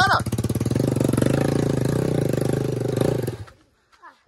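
A motorcycle engine revs hard and steadily for about three seconds while climbing a dirt trail, then cuts off abruptly into near silence.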